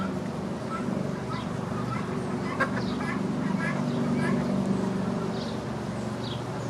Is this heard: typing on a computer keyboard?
no